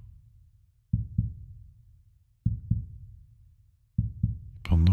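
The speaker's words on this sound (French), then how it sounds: "vous pouvez bien évidemment commencer à entendre les battements du cœur en arrière-plan de ma voix" A recorded heartbeat plays slowly in the background of a relaxation hypnosis session, over a low steady hum. Three clear lub-dub pairs thump at an even pace, and a brief burst of sound cuts in at the very end.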